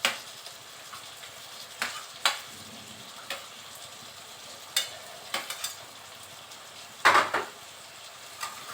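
Fried potatoes and okra being dropped into a pan and stirred, giving scattered clinks and scrapes of a spoon against metal. One louder clatter stands out against a quiet background sizzle, and nobody speaks.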